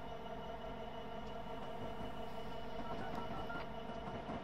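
A freight train climbing Cajon Pass in a train simulator, with a steady, continuous rumble and hum of engines and rolling cars, no voices.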